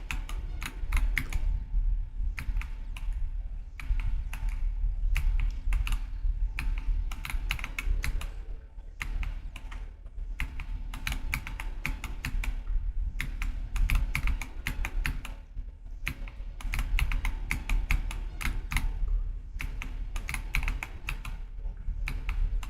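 Rapid computer keyboard typing throughout, steady bursts of clicking key presses while playing Geometry Dash, close and continuous with no talking.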